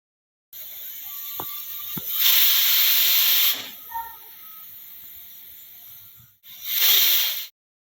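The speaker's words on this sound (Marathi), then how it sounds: "कुकरला आपल्या सहा पाच ते सहा एवढ्या शिट्ट्या होऊन द्यायच्या" Pressure cooker on the stove cooking khichdi, letting out loud bursts of hissing, whistling steam, with a long release near the start and another short blast at the end, and quiet bubbling between.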